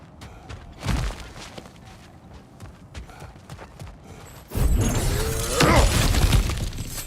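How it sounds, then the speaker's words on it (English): Objects get smashed in the God of War Ragnarok video game: a sharp crash early on, scattered knocks and clatter, then a loud, sustained burst of shattering and breaking debris near the end, with no talking. "back to smashing through things for fun and profit"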